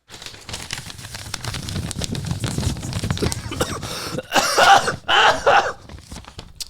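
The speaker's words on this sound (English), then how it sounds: "I have a little bit of a cough as well." Several harsh coughs, close and loud, come in quick bursts toward the end after a stretch of quieter shuffling and breathing noise.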